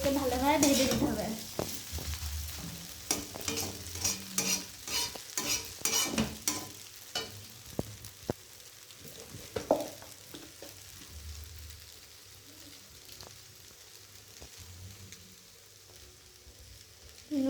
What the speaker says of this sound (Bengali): আর আবার একটু নাড়াতে হবে ভালোভাবে, একদম যেন চাউমিন এমনভাবে নাড়াও যেন একদম ঝরে ঝরে পড়বে